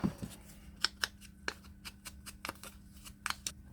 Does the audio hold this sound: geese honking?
no